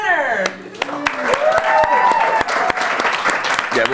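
Audience applause at a Captain America: Civil War global press conference, a loud, dense burst of clapping throughout with voices talking over it.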